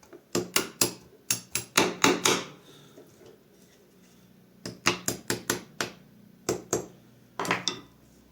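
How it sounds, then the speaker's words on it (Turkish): A small hammer taps sharply in quick bursts, several clustered strikes, a pause, then more rapid clicking taps, close and crisp. "küçük bir çekiç marifetiyle hafif veya tıklatmalarla geliyor"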